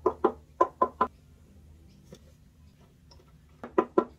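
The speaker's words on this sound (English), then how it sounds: "I'm just going to knock around the instrument and see if I can find any more open joints" Knuckle taps on a violin body checking for open seams, several crisp knocks in quick succession, a faint tap midway, then another cluster of close, dry knocks with no talking.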